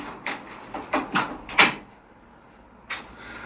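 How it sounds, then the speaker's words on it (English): A door shut indoors, with several sharp knocks or bangs in quick succession, a short quiet pause and then one more thud, all fairly close and without talking. "Shut the door."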